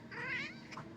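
A house cat meows once, a rising and falling call of about a second, fairly close and clear over a quiet room.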